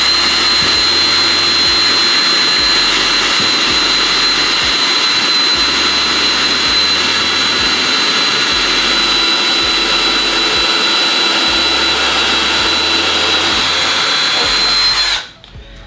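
An entry-level Ryobi cordless drill in drill mode at speed 1 whines steadily at full trigger, close and loud, for about fifteen seconds before cutting off abruptly.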